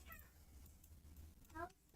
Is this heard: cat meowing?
yes